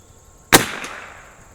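A single sharp report from an Anschutz 54 match rifle firing RWS special match rounds, close and loud, with a short decaying ring after it against quiet surroundings.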